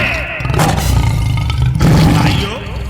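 A deep lion-like roar, loud and sustained, rising and swelling over about three seconds, with a voice roaring it in imitation during a devotional recitation.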